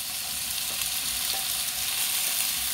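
Tomatoes frying in a pan for adobong sitaw, a steady, loud sizzle hissing continuously with faint stirring clinks, no voices.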